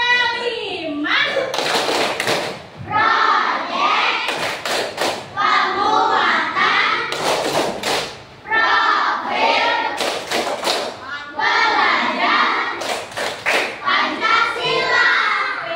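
A group of schoolchildren claps hands in rhythmic bursts in a classroom, with loud chanting and children's voices throughout between the clapping patterns.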